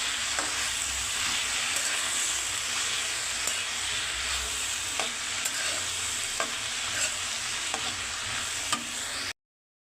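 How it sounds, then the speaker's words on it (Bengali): Onion stalks frying in a pan with salt and green chillies, a steady close sizzle with occasional stirring scrapes and clicks, no talking. "পেঁয়াজের কলি ভাজা হয়ে যাচ্ছে"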